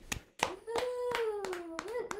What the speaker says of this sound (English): round of applause for me